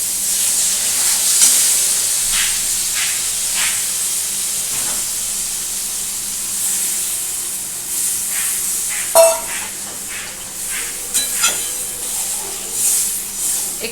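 Water poured into a pan of simmering fish roe curry gives a loud, steady steaming sizzle and hiss throughout, with occasional spoon knocks and stirring scrapes.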